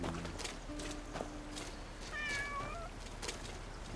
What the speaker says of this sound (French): J'avais entendu un chat, je ne le vois pas.